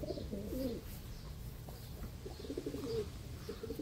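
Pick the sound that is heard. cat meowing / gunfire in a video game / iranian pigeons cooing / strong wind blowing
iranian pigeons cooing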